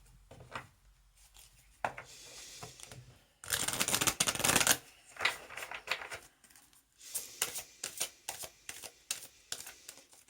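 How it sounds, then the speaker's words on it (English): Tarot-style oracle cards from the Lightworker Oracle deck being shuffled by hand in bursts of riffling and sliding, with a long dense flurry in the middle and shorter shuffles after, close and fairly quiet with no talking. "next we will have a card from Alana Fairchild's Lightworker Oracle deck"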